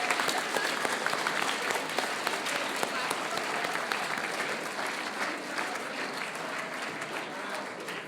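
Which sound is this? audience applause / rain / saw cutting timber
audience applause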